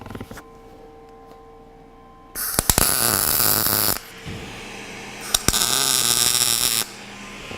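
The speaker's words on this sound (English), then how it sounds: "tack welding the top piece on, top railing" Steel top railing on a rooftop being tack welded, with two loud bursts of arc crackle and buzz lasting about one and a half and two seconds, separated by quieter hum.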